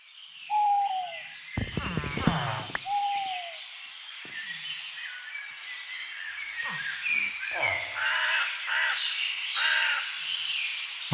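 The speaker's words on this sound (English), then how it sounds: "Lots of birds in the area." Birds caw and call in the video game Minecraft, several separate cries scattered across the stretch over a soft airy background, some nearer and louder, others fainter.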